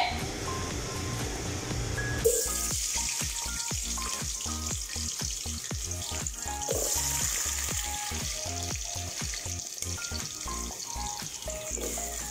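Potatoes fry in a hot pan with a steady, loud sizzle, broken by stirring scrapes and clinks of a utensil against the pan. No voices are heard.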